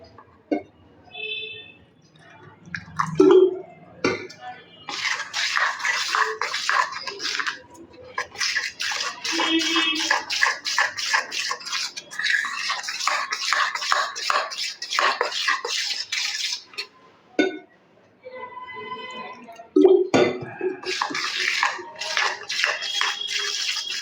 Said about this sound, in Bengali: এখানে আরও একটু জল দিতে হবে